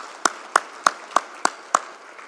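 Six slow, evenly spaced claps ring out at a formal memorial conference, each a sharp isolated crack over a faint room hiss, sounding more like one person clapping than a full crowd.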